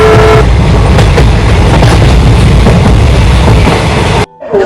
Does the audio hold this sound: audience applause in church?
no